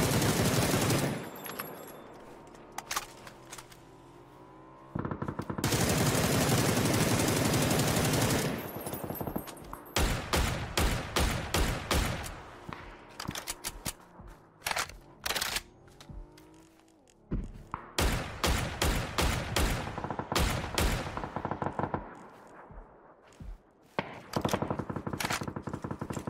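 Loud automatic gunfire from a weapon in PUBG, long sustained bursts and rapid rhythmic strings of shots up close, broken by short pauses and a few thuds and scrapes, with almost no talking.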